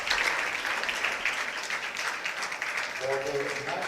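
Spectators at a 10m air pistol medal match give a burst of applause, a bright, crackling clatter of many hands, with a voice speaking over the tail end.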